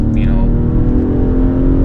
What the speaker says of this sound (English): B58 is just on another level. Like, hearing this engine is like a music to the ears.